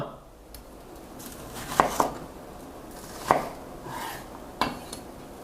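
A knife chops bell peppers and onion on a board in several sharp, irregular strikes, with faint kitchen clatter between them.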